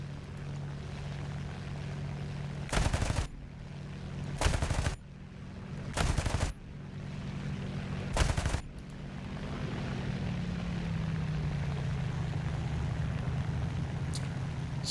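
Four short, loud bursts of P-38G cannon and machine-gun fire in the War Thunder air-combat game, spaced about every two seconds over a steady engine drone.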